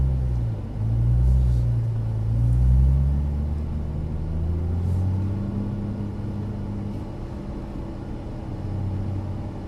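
A Nissan GT-R rolling off with a low rumbling engine drone that swells and eases as it pulls away, steady and close, with no talk over it.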